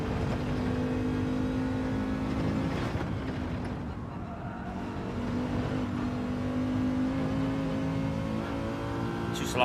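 A race car in Gran Turismo 7 during manufacturer practice, its engine droning steadily, then briefly easing off throttle with a dip in pitch before building again, continuous and close with no talk.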